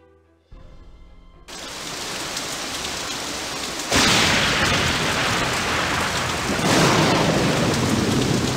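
Thunderstorm in an adventure game set at a Victorian mansion in San Francisco: a sudden loud burst of heavy rain hiss with rolling thunder swelling in waves, continuous and dense throughout.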